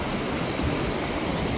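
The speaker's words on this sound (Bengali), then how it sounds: "ঢেউগুলি যখন ভেঙে ভেঙে পড়ছে, অতুলনীয় সৌন্দর্যের ডালি যেন এখানে সাজিয়ে রেখেছে।" Open-sea waves break on the shore at Havelock, a steady, close, broadband rush of surf with no voices.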